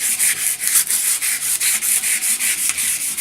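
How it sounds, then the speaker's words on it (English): Wire wool rubbing along a restored Sikh sword blade in quick, regular back-and-forth strokes, a close, steady scratchy hiss pulsing in even rhythm with no talk. "I'll go over with some wire wool to polish it up"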